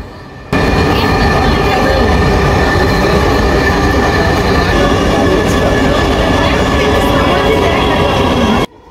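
Dhaka Metro Rail train running between Uttara and Motijheel, a steady loud rumble with rail noise that starts abruptly and fills the clip, heard from onboard with no talk.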